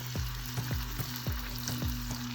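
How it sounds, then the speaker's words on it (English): Bhatura fry in hot oil with a continuous sizzle, broken by a regular run of soft popping bursts, close and alone with no talk. "In goes the bhaturas. Make sure your oil is nice and hot."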